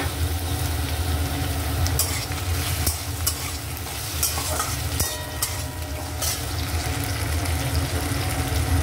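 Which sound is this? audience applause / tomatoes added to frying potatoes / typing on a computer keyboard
tomatoes added to frying potatoes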